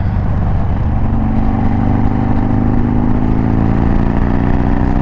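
A Harley-Davidson Dyna motorcycle engine runs while riding, a close, steady throbbing growl whose pitch climbs gradually as it accelerates.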